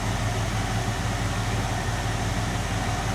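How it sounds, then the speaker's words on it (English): A 1992 Ford F150 XLT 2WD pickup with dual exhaust idles close by, a steady low rumbling drone that holds even for the whole stretch. "Let's take a listen to that dual exhaust"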